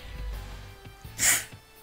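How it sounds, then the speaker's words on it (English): A single sharp sneeze bursts out partway through, loud and broadband against quiet low background hum and game sounds, with no talking during it. "Had to sneeze there."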